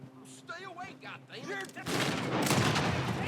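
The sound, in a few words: gunfire in a video game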